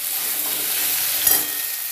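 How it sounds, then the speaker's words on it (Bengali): A spoon stirs gourd, potato, drumstick, carrot and pumpkin together in a hot pan, giving a soft continuous sizzle with a brief scraping stir near the middle. "এবার ভালো করে আমি মিশিয়ে নেব।"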